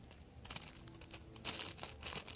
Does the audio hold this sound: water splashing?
no